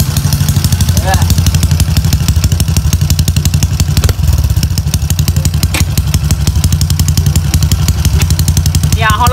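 A Honda Wave 110i motorcycle fitted with a Hee exhaust pipe roars loudly and continuously up close, its engine held at high revs with a rough, throbbing pulse and clattering mechanical edge, with no voice heard.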